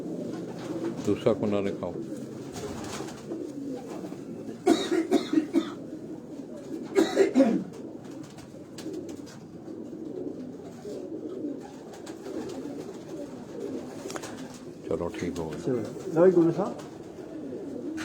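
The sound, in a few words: Kabuli pigeons cooing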